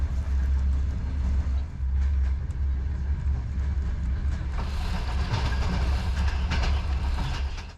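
Georgia's oldest passenger train, an old carriage running along rails beside the Mtkvari River, gives a steady heavy low rumble with rattling and clatter, heard from inside the car and growing brighter and noisier toward the end.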